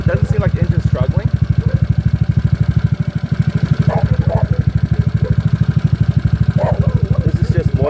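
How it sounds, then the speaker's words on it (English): A GY6 scooter engine idles with a steady, rapid exhaust putter, close and continuous, with brief faint sounds over it. "You hear the exhaust? It doesn't seem like the engine's struggling."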